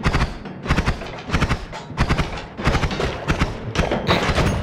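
Explosions in the video game Noita: a rapid, dense string of loud blasts and crackling bangs, one after another, filling the whole stretch without pause.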